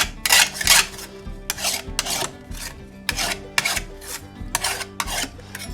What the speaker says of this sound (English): just going to take a file and smooth up the burrs on this backside